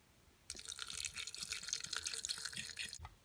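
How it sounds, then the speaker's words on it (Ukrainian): Room-temperature drinking water pours into a jar of honey infused with dandelion stems, a steady close splashing trickle lasting about two and a half seconds before it stops abruptly. "Заливаю водою кімнатної температури, звичайною питною."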